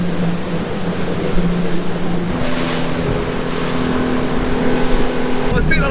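A fishing boat runs at about 30 knots across open water toward the Montebello Islands, its steady engine drone mixed with rushing wind and hull slap. A voice is partly heard under the noise.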